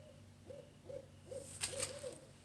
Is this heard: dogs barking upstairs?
no